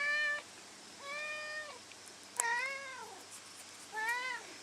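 A house cat meows four times in a row, each call rising and falling, fairly close and clear against a quiet room.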